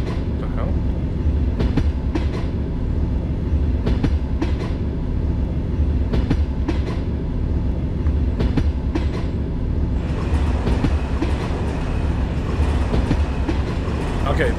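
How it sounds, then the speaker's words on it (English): A Russian diesel overnight passenger train running, with a steady low rumble and rhythmic clickety-clack of the wheels over rail joints, sharp periodic clanks, and a brighter hiss rising in the final seconds, heard close from inside the carriage. "this is an actual travel train or overnight train"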